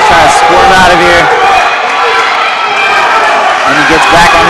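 A crowd at a high school wrestling match roars and cheers in a steady, dense wall of noise, with an announcer talking over it throughout.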